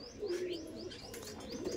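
Andhra pigeons coo softly in a low, rolling call, with a few higher chirps over it, steady and fairly faint at close range.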